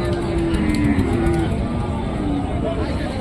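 A cow at a rainy-season cattle market in Chaubari, Bangladesh, lets out a long, loud moo followed by a shorter one, over a busy background of crowd bustle.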